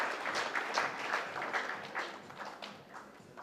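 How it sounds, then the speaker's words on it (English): Audience applause at the inaugural session of an auto retail conclave, a steady round of many hands clapping that carries through and slowly thins toward the end. "Can we have a louder round of applause, ladies and gentlemen?"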